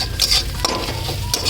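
Egg and vegetables fry in a pan while being stirred: a close, steady sizzle with scraping stirs and sharp utensil clicks against the pan.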